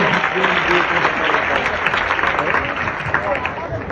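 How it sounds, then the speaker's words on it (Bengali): A crowd claps and cheers in a dense, continuous burst of applause with voices mixed in, at a chess award ceremony. "তার জন্য একটা গ্র্যান্ড করতালি আরো একবার"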